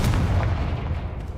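Confringo and Bombarda spell blasts in the game Hogwarts Legacy: a loud, heavy booming burst with deep rumbling body, tailing off into a rolling low rumble.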